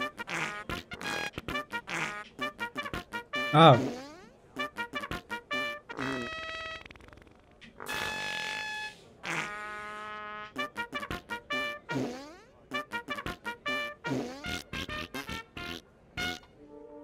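Cartoonish fart noises from South Park: The Fractured But Whole blare in a long rapid series of squeaky, warbling bursts of varying pitch, with a few short spoken exclamations mixed in.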